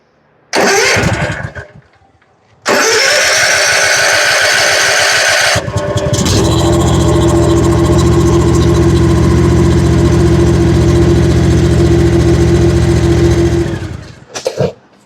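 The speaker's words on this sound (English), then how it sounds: "Now it's probably going to fire up and sit here and idle" A zero-turn mower engine with a surging and dying fault cranks briefly, then starts on a second long crank and settles into a loud, steady close idle before cutting off.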